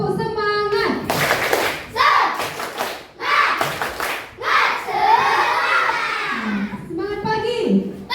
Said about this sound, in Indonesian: Iya, tepuk semangat.